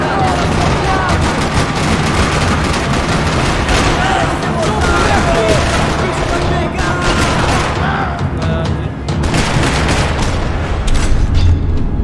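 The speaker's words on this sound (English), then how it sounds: "Another parking lot rattling with gunfire." Heavy gunfire in a parking lot in Max Payne 3, dense bursts of automatic shots and booming impacts rattling nonstop and loud, with a voice talking over the din.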